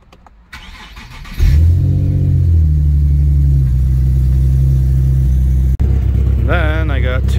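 A 2015 BMW M4 engine, cold at start-up, catches and settles into a steady, loud idle, briefly cuts out near the end, then is revved up toward 2000 rpm in rising sweeps.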